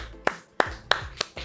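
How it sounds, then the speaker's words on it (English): Four sharp, evenly spaced hand claps ring out close and clear in an otherwise quiet room, each a crisp single smack rather than a full crowd's applause. "So I'll give a round of applause to Goruck."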